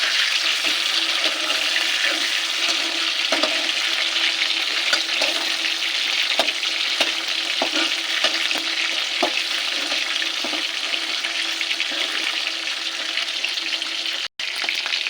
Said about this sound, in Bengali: চিকেনটা ভাজা হয়ে গেছে এবার তুলে নেবো